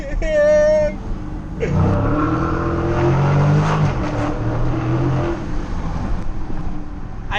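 A 2016 Dodge Challenger Scat Pack engine revs hard and accelerates from inside the car, a loud, continuous roar rising and shifting through gears, with people talking excitedly over it.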